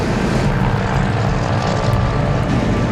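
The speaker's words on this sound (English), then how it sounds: "21 planes and 240 paratroopers take to the air" Several Douglas Dakota transport aircraft carrying paratroopers take off together for a Normandy airborne drop re-enactment, producing a loud, steady, close propeller-engine roar that fills the whole stretch without pause.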